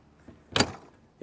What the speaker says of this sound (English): Let's close the door one more time.